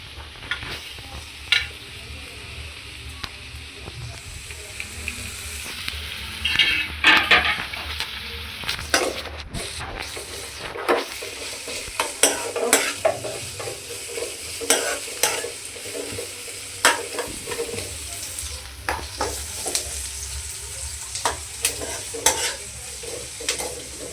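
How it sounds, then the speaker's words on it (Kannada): Vegetables with coriander leaves frying in a pan for an ivy gourd stir-fry, a continuous sizzle broken by repeated scraping and clattering stirs, close and fairly loud, with no talking. "ಇದು ಸ್ವಲ್ಪ ಚೆನ್ನಾಗಿ ಫ್ರೈ ಆಗಬೇಕು, ಚೆನ್ನಾಗಿ ಫ್ರೈ ಆಗಬೇಕಾಗುತ್ತೆ."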